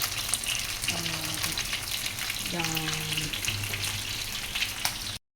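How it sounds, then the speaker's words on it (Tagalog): Chicken wings deep frying in oil give a dense, continuous sizzle, loud and close, with a couple of brief tonal clinks partway through before it cuts off. "chicken wings. Ganda ng pagkaprito."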